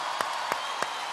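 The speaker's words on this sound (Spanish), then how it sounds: "quizás en este aplauso colectivo" Steady collective applause from a large festival audience at Viña del Mar, dense and continuous with a few sharper claps standing out rhythmically, no voices on top.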